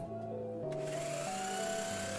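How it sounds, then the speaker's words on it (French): A steady, whining circular saw from the video game Yandere Simulator drones continuously at a constant, loud level, its pitch shifting slightly, with no talking. "La scie circulaire"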